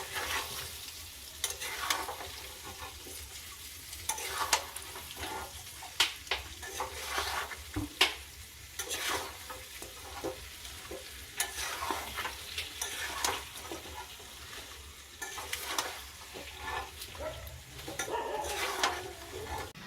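Mango pickle stirred in a pan over a stove, a steady low sizzle broken by repeated utensil scrapes and knocks in an irregular rhythm, close and continuous, with a faint bird cooing somewhere in the background.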